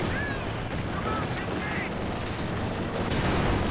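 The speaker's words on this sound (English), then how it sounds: "Panzer 4 fires away" A Panzer IV tank fires its main gun in Company of Heroes 2, heard under a steady din of battle with rumbling explosions and scattered gunfire, moderately loud throughout.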